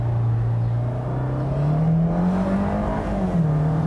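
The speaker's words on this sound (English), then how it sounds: "What you do hear occasionally is just some turbo whistle from the turbo." A 2017 Fiat 124 Spider's 1.4-litre turbo engine hums steadily with a rising and falling whine, a faint turbo whistle riding over the low drone.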